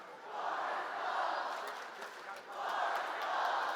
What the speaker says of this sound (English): Morris Knolls fans, a big contingent of them, trying to cheer on their Golden Eagles.